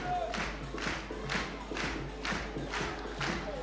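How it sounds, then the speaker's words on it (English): A crowd at a bouldering final cheers and shouts for a climber in repeated swelling waves, a loud, dense roar of voices rising and falling about every half second. "Listen to that crowd response, firmly behind him on this."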